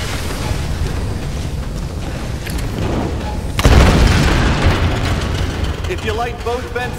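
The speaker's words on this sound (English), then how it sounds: "Explosion!" A loud explosion goes off in the Tomb Raider video game, a sudden deep boom that bursts in after a stretch of rumbling ambience and then trails into roaring debris and wind-like noise.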